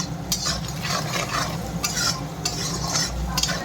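Chili powder and meat masala fry in a pan for eggplant bharta, a close, steady sizzle broken by repeated scraping strokes of a utensil stirring against the metal, with no voices.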